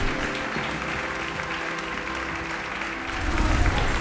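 Applause from a crowd of students in the Hogwarts Legacy video game, a steady dense clapping that swells louder near the end.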